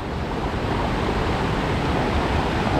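Fast-flowing water rushes near a set of gates, a dense, unbroken roar that stays loud and steady throughout, with no voices over it.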